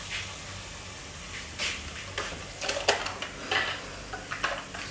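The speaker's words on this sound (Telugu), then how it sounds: "ఇప్పుడు కర్డ్ కలుపుతా." Curd is stirred into dum biryani masala in a pan, with soft, irregular scrapes and clinks over a faint sizzle, growing busier toward the end.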